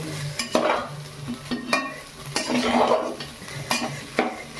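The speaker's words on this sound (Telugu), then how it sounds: "ఇక హైలోనే పెట్టి బాగా వేపుకోవాల్సింది దీన్ని, అన్నాన్ని." Street-style egg fried rice is tossed in a pan on high heat, with a soft sizzle broken by sharp metal scrapes and clanks of the spatula at irregular intervals, close up and with no voices.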